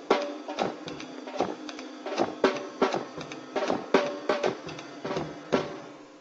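A jazz drum beat in early swing style with the hi-hat closing on beats two and four, a steady rhythmic pattern of crisp cymbal and drum hits played alone, close and moderately loud.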